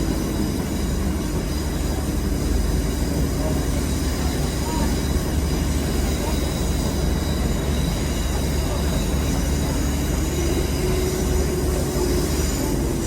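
Passenger train on the Leeds–York line via Harrogate, rumbling and curving sharply onto Crimble Viaduct; steady close rolling noise with wheel squeal rising in the second half, heard from on board.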